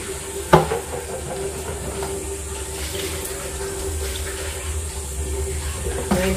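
Water runs steadily into a cooking pot of fish with a soft continuous hiss, a faint clunk near the start and again at the end, no talking.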